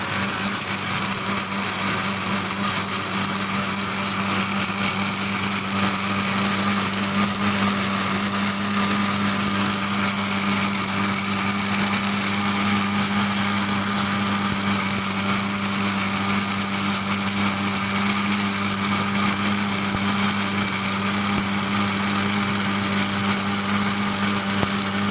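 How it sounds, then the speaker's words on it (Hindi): A kitchen grinder blends pomegranate for juice, giving a steady, loud, unbroken motor whir with a constant hum for the whole stretch and no talking. "ये देखें, अब हम इसको ग्राइंडर करेंगे।"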